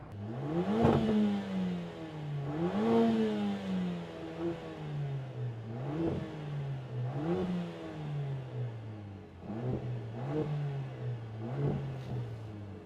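A parked 2025 Mercedes CLA 45 AMG engine revs repeatedly in rising and falling surges, a steady rhythm of throttle blips roaring up then settling back to idle, close and loud.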